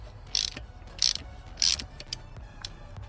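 Ratchet wrench with a 5/8 spark plug socket breaking loose and removing a spark plug from a Ford 5.4 engine, giving three loud, evenly spaced ratcheting bursts followed by softer clicks, close up with no talking.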